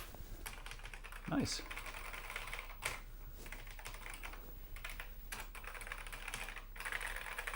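Keys clatter on an old Amstrad computer keyboard in a retro home setup, a run of fast, light clicks with one brief louder burst early on. A short spoken word is heard near the start.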